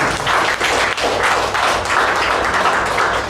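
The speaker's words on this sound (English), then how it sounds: "A round of applause for her." A round of applause from the audience at a Toastmasters club meeting, loud and close, with continuous dense clapping throughout and no talk.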